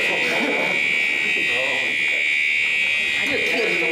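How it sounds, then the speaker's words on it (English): A fire alarm blaring steadily and loudly through a county board of supervisors meeting room, a continuous piercing tone with people talking underneath. "I set off a fire alarm."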